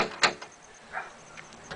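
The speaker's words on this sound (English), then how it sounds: "You open the door" An apartment front door opens with a sharp click of the latch near the start, followed by a softer creak or swing and a few faint knocks and rustles, close by and with no talk.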